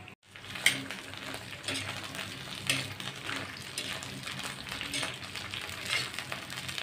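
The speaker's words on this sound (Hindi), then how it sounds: "ये देखिए भिंडी मैंने हाफ फ्राई कर लिए है" Okra (lady finger) half-frying on a tava, a soft, continuous sizzle with occasional light scrapes and clinks of a spatula, fairly quiet and heard alone without talk.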